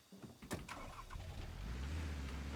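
A car engine in the survival game Rust cranks and catches, then settles into a steady low idle rumble, heard alone without talk.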